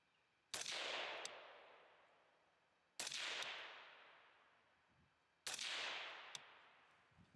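Three suppressed gunshots fired through a B&T silencer at an outdoor range, each a sharp loud crack followed by a long fading echo, evenly spaced about two and a half seconds apart.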